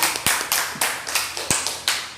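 A classroom group claps for classmates after a presentation in a biology microteaching lesson: a few loud, distinct claps in an uneven rhythm, close by, with no talk.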